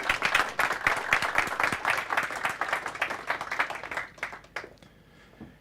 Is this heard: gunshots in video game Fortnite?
no